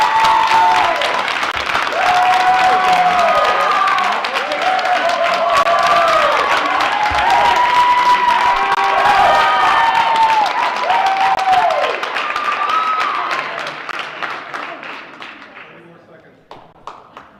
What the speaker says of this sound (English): I do appreciate the applause for our students.